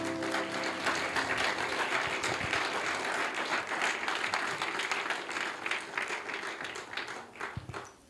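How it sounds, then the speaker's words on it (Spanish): A church congregation at a Sunday service applauds in sustained, dense clapping for several seconds, then thins into scattered claps and fades out. "Den un aplauso al Señor."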